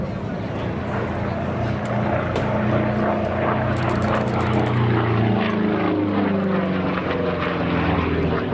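Three P-47 Thunderbolt fighters with 13-foot propellers fly past at an airshow, a loud continuous droning engine roar that swells and shifts in pitch as they pass, steady throughout.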